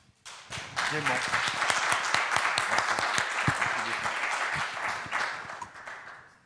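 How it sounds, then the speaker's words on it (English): An audience applauds steadily for several seconds, dense clapping rising quickly and tapering off at the end. "Merci Arnold et on t'applaudit."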